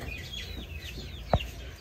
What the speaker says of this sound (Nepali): यो चाहिँ गिराज कुखुरा हो